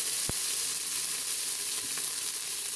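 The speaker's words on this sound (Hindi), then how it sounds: "अभी हम सारी चर्बी के पीसेस इसमें डाल देंगे" Pieces of beef fat sizzle in a little oil inside a pressure cooker, a loud, steady hiss of frying that continues throughout with one sharp pop near the start.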